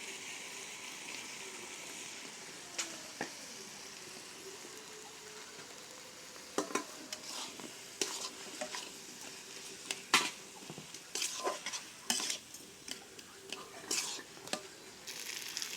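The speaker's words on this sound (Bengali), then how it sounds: "এখন আমরা আলুটা মশলার সঙ্গে কষে নেব কিছুক্ষণ।" Potatoes with spices are stir-fried in a pan: a low, quiet sizzle with irregular scraping and clinking strokes that grow busier toward the end.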